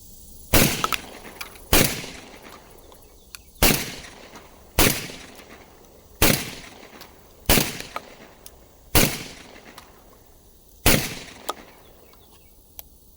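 A Beretta 1301 tactical shotgun fires nine loud, sharp blasts, each about one to one and a half seconds apart. Every shot carries a short echoing tail, and the gaps between shots are quiet.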